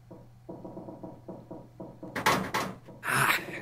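A door in the video game Zero Escape: 999 rattles in several short, rhythmic jolts without opening, followed by louder bangs and a burst of noise near the end.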